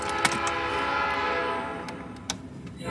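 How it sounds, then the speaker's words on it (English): A passing train with its horn sounding, a loud sustained rumble and a long horn blast filling the air nearby, fading toward the end, with a couple of sharp ticks. "There's that pesky train."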